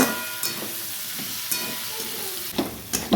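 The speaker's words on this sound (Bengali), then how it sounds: "টমেটো কুচিগুলো দেওয়ার পর আলুটা আরও ভালো করে কিছুক্ষণ ভেজে নেব" Potatoes fry with chopped tomatoes in a pan, a continuous close sizzle and hiss broken by several sharp stirring scrapes, louder toward the end.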